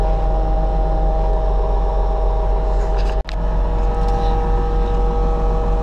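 A seeder fan on farm machinery runs at a little under its intended speed during spring seeding. It makes a loud, constant mechanical drone with a steady hum that cuts out for an instant midway, then resumes unchanged.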